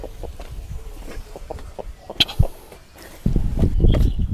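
Chickens cluck in short, scattered bursts nearby, mixed with rustling and shuffling steps, with the activity growing busier toward the end.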